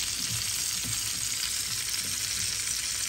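Flounder fillets pan-frying in a cast-iron skillet give a steady, close sizzle of hot oil that crackles evenly throughout, with faint low knocks from the pan and no talking.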